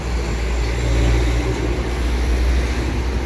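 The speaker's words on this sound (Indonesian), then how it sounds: "Satu bus berangkat." A Harapan Jaya intercity bus pulling away, its engine a steady, heavy low rumble with broad road and exhaust noise, fairly loud and close, continuous throughout without speech.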